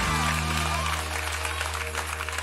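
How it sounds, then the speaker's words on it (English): A church congregation at a prophetic service claps hands in a dense, continuous wash of applause, with steady low humming tones underneath throughout. "so clap your hands for me"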